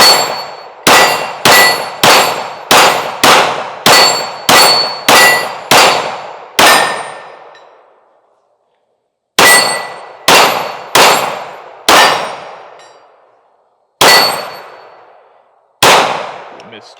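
Shots from a Sig P365 Fuse pistol ring loudly off steel targets: a fast run of about ten sharp clangs, each with a decaying metallic ring, then a pause and five slower, more spaced hits.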